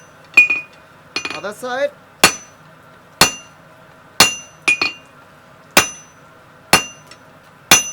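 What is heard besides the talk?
hammering hot steel taper with flat die, forging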